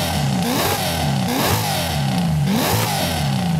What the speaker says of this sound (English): it has quite a weird sounding overrun whenever you rev the car